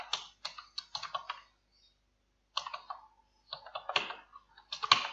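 Quick bursts of keystrokes on a computer keyboard click close by, with short pauses between runs of typing while a command line is being used.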